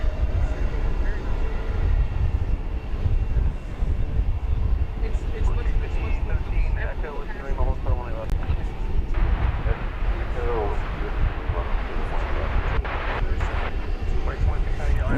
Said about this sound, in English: This is flight 1430 going to San Francisco, an Airbus A321